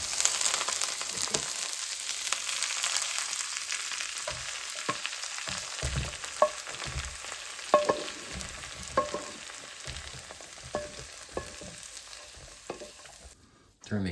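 Charred peppers for hot sauce cook in a saucepan with a soft, steady sizzle, broken by irregular clinks and scrapes of stirring that grow sparser toward the end.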